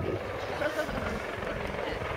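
A low-flying military attack helicopter at the Royal International Air Tattoo air show gives off a steady, moderately distant rotor and engine drone while a commentator talks over it.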